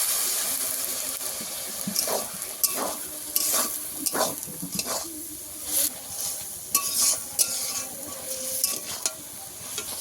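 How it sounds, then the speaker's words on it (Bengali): Ghugni masala with ginger paste being stir-fried in a pan with water added, a bubbling sizzle broken by repeated scraping stirs and splashy bursts over ten seconds, no voices. "সব কিছু ভালো মতো কষিয়ে নেবো। জল দেবো, দিয়ে কষাবো।"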